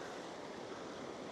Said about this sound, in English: all I hear is the ripple of the waves right now